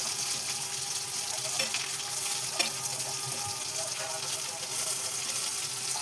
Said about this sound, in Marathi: त्यांना आपण आता खरपूस असं फ्राय करायचं आहे